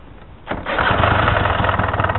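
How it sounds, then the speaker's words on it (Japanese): Suzuki Address V100 scooter engine starting after a starter relay replacement: a brief quiet cranking, then the small engine catches at about half a second and settles into a steady, close, pulsing idle. "エンジン始動テストですね"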